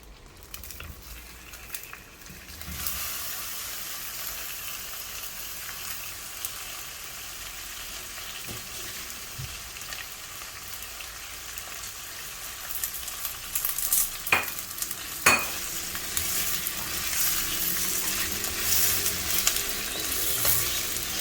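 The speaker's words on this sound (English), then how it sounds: "Heated up some oil. I'm going to shallow fry the bindis." Okra shallow frying in hot oil in a pan, a steady sizzle running throughout with a few brief sharper crackles and pops near the middle; no one speaks.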